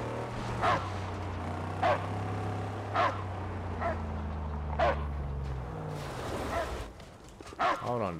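A dog barks repeatedly in the Mad Max video game, about six sharp barks spaced roughly a second apart over a steady low engine drone, with a brief rise of engine noise late on.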